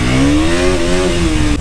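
A KTM Duke 200 BS6 motorcycle, said to lose pickup on uphills, revs with a loud close engine drone that climbs slightly in pitch, holds, then cuts off abruptly.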